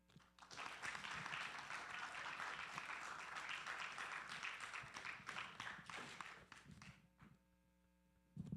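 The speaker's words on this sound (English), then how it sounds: "Another round of applause for Dr. Johnson." A conference audience applauds Dr. Johnson after a talk at a youth climate event, sustained clapping from a room full of people that fades near the end over a low electrical hum.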